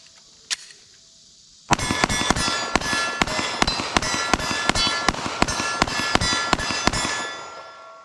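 Rapid string of Glock 19 Gen 5 pistol shots at a range, about fifteen sharp cracks in quick steady rhythm, loud and close, with one isolated shot before the volley.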